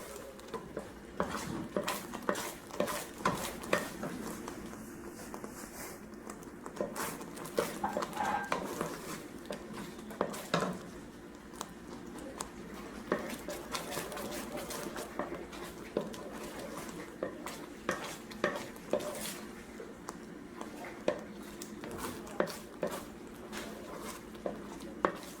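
A spoon stirs a thick coconut cream and condensed milk mixture in a cooking pot, with repeated soft scrapes and knocks against the metal in an irregular rhythm, close and quiet.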